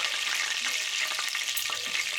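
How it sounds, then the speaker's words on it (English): Breaded chicken frying in a pot of oil, giving a constant loud hiss broken by small pops of grease, close up and with no talking. "excuse the noise for the popping of the grease"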